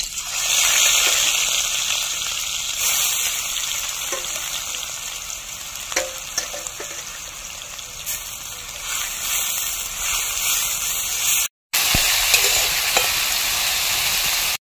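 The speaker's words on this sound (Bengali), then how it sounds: "তেলটা আমার গরম হয়ে গিয়েছে, এবার আমি পেঁয়াজটা দিয়ে দিচ্ছি।" Grated onion sizzles loudly and steadily in hot oil as it is stirred, with occasional scraping clicks and a brief break near the end, for a Bengali chicken posto dish.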